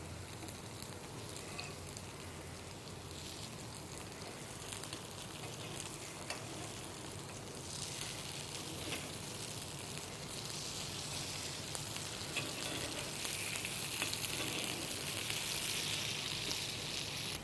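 Paniyaram made from idli batter frying in a pan, a continuous close sizzle and crackle of hot oil that stays even throughout, growing slightly brighter toward the end.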